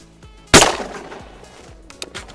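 A single sharp gunshot cracks out loudly, followed by a short decaying echo and a couple of faint clicks afterward.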